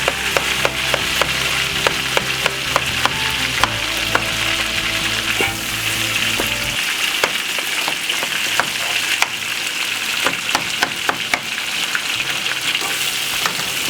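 Onion and curry leaves frying in a hot pan, a steady loud sizzle with sharp crackles and pops throughout, a low rumble dropping away partway through and no talking.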